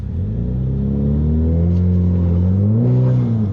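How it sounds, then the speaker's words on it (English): A Ford EcoBoost Mustang makes a hard launch with its wheels spinning, the engine droning loud and close with rising and wavering harmonic tones as the revs climb and hold. "So I'm gonna give this car the hardest launch,"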